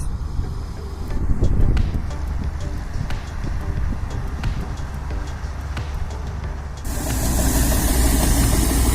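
A threshing machine harvests a crop with a continuous loud mechanical rattle and clatter, swelling into a denser, louder roar in the final seconds.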